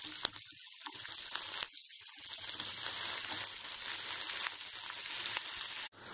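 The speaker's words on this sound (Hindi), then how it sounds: "प्याज को हल्का ब्राउन होने तक मैं फ्राई करूंगी" Onions frying in a pan until golden brown for boondi ki sabji, a quiet, steady sizzle broken by a couple of brief drops into near silence and ending with a sharp cut.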